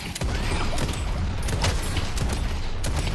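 Frantic gunfire from the Valve shooter Deadlock: dense, continuous bursts of shots and crackling impacts, loud and close, without a break for the whole stretch.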